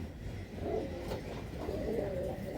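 A pair of Malbai pigeons at a pigeon sale in Hooghly coo softly and low, with a few gentle rolling calls rising from quiet, steady background noise.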